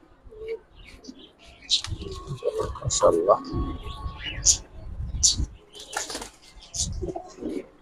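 Khaki Giribaj pigeons coo softly amid occasional chirps and bursts of wing flapping, close by, while someone talks over them.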